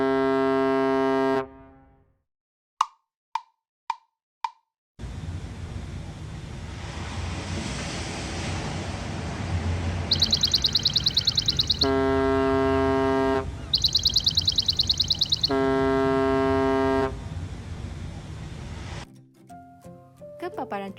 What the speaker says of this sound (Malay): ke paparan live loop movie machine untuk merakam sel bunyi hon kapal